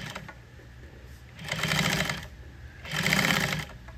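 Sewing machine stitching piping onto boat upholstery for a gunnel redo, running in two steady bursts of rapid needle chatter separated by a pause, close and fairly loud with no talking.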